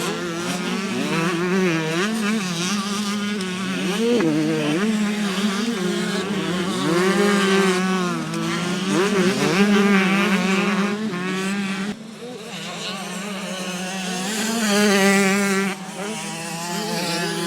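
Motocross bikes racing past at speed during a round of the French championship, several high-revving engines whining and rising and falling in pitch as they pass close by, continuous and loud.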